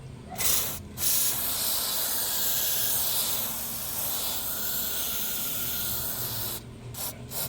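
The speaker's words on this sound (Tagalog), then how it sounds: "Tapos, ang gagawin nyo lang, spray lang." Extreme One sticker remover sprayed from a can onto a painted surface: a loud continuous aerosol hiss lasting several seconds, with short bursts at the start and end.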